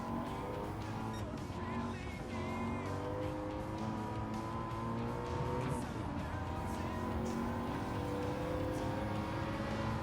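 Race cars in the Gran Turismo 7 video game, including a GT3 Ferrari, Audi and Lexus, roar with continuous engine drone and shifting revs, with occasional tire noise, steady and moderately loud throughout.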